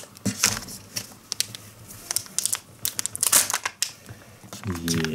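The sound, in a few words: opening a Joy surprise toy packet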